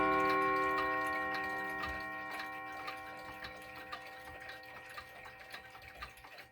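A Kienzle ZentRa wall clock with a Potsdamer Gong ticks in a steady, even rhythm, close and fairly quiet, while a lingering chime tone slowly fades beneath the ticks.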